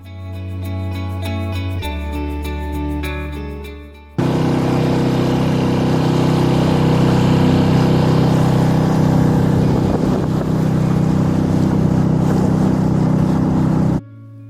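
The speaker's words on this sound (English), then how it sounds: "We're heading off in the dinghy over to the islands to have a look around and stretch our legs." A sailing dinghy's outboard motor carries it across Baltic waters toward the islands: a lower idling tone at first, then a loud, steady roar that holds for about ten seconds before cutting off abruptly.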